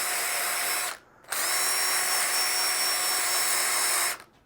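A small cheap handheld drill with a brush attachment whirs steadily close up while scrubbing a white shoe, running in two continuous bursts separated by a short pause.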